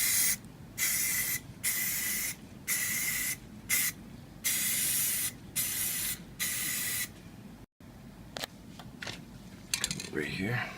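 Rust-Oleum spray paint hisses onto an old jewelry box in a series of short bursts of a second or so each with brief pauses between, close up, followed by a few light clicks and handling noises.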